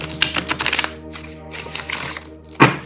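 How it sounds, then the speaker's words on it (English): Riffle shuffle of a tarot card deck, quick rattling flutters of cards in several bursts, close up, ending with a sharp bridging slap, no talk. "It's such a delight to riffle shuffle these cards"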